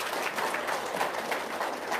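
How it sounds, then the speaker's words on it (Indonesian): Audience applause at a talk, a short, continuous patter of many hands clapping at moderate level, slightly distant. "Tepuk tangan dulu dong"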